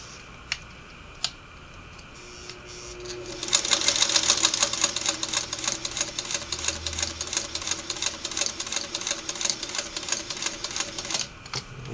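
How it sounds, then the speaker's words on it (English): A Singer Model 301A sewing machine runs slowly with a thin white and red thread, its needle ticking in a steady, close rhythm. The stitching starts after a few quiet seconds and keeps going, with no voices. "And I'm just going to go slow here in the beginning."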